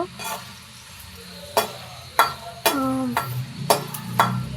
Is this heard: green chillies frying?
yes